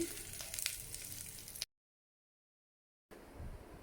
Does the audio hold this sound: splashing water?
no